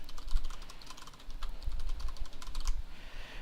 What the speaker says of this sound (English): I'm actually going to type in my Gmail account